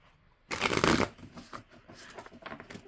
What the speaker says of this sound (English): Sometimes it's so hard for me to shuffle these cards.